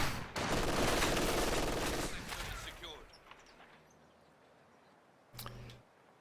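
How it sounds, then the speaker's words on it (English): An MG42 machine gun in a Company of Heroes match lets off a long, loud, rapid burst that fades into quieter battlefield ambience, with one more short thump later, and a commentator talks over it. "So some aggressive play with that MG42 from Lyconious, and that is slowing down ASSBAG's progress"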